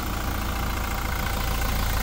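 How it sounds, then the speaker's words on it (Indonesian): A 2019 Toyota Hilux G 4x4 with a 2GD turbo diesel idles steadily, giving a dense, even engine drone with a low rumble that stays constant and close throughout. "Ini dia mesin 2GD yang halus, terkenal harus irit dan bertenaga."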